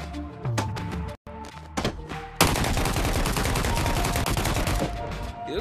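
A gun firing in the VR game Bonelab, a few separate loud shots and thuds at first, then a long rapid automatic burst of sharp, close cracks that keeps going.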